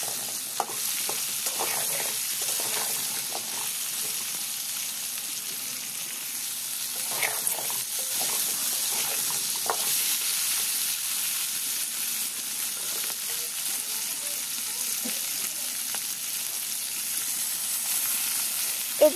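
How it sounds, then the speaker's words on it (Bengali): Flat beans and potatoes fry together in a pan, giving a steady close sizzle with scattered soft scraping and stirring clicks that run the whole time, and no one speaks. "এরপর আবার সব ভালো মতো একসাথে ভেজে নেব।"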